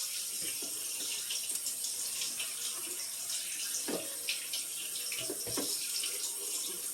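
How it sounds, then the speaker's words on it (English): Tap water runs steadily over hard-boiled eggs being rinsed in a kitchen sink, a continuous hiss and splash with a few louder splatters, no talking. "The water is rinsing off the eggs."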